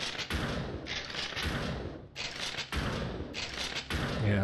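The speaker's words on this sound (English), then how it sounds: "this is pretty much a shotgun" A shotgun-like weapon in the game Dead Cells fires a quick string of punchy blasts, about six or seven bursts in uneven rhythm over game noise, loud and close.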